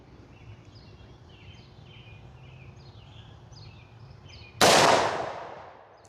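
A single loud, sharp gunshot from an XDM Elite 10mm pistol rings out near the end, preceded by quiet outdoor ambience with faint birdsong.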